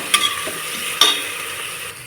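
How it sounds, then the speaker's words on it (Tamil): Onions sautéing in a pressure cooker for mutton biryani make a loud, steady frying hiss, with two sharp metallic scrapes of the ladle against the cooker, close by and with no voices. "இப்போ ஆனியன் பொன்னிறம் ஆகிற வரைக்கும் நல்லா வதக்கிக்கலாம்."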